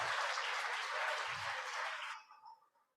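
Audience applause for a college culinary team after lunch at a traditional plant medicine working group gathering, a burst of dense clapping with a low whoop that stops abruptly, leaving faint trailing claps.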